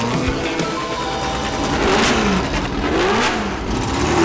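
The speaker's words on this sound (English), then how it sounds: "Just getting the engines warm now." A Ford GT40 race car engine, rated at 470 horsepower, revs repeatedly while warming up in the pits, a loud, close, rising and falling roar of throttle blips with no talking.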